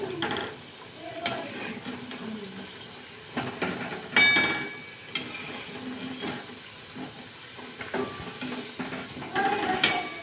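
Balushahi frying in oil for Diwali faral and being flipped, a steady soft sizzle with clinks and scraping of a spoon against the pan, close and fairly quiet.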